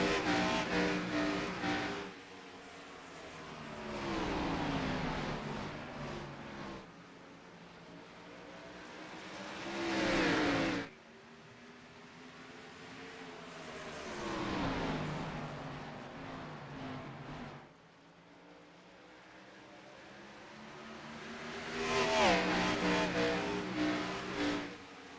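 Race cars of the Pavement Cup Series circling a paved oval, engines rising and fading in long sweeping waves as the pack passes again and again, loud and steady with no speech.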